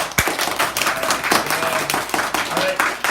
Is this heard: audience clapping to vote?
yes